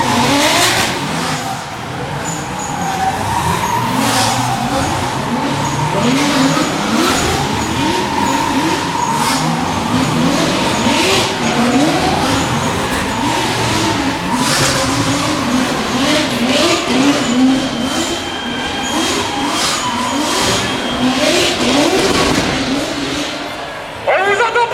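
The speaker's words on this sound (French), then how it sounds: "Alors ça, c'est ce qui s'appelle des donuts." A race truck drifts in donuts at Le Mans, its engine revving hard and tires squealing in repeated sweeping bursts, loud and close, with crowd noise around.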